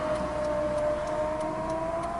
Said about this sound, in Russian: Опять сирена.